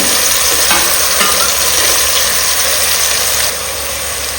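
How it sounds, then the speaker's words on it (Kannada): Marinated fish and masala frying in hot oil in a pressure cooker, a steady dense sizzle with stirring scrapes running throughout, loud and close, easing slightly near the end. "ಮ್ಯಾರಿನೇಟ್ ಮಾಡಿಟ್ಟಂತ ಮೀನನ್ನು ಹಾಕುವ ಎಲ್ಲ ಮಸಾಲೆ ಕೂಡ ಹಾಕುವ"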